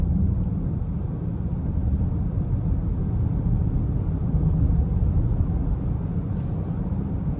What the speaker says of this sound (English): I love the sound that the vehicle makes. It sounds very sporty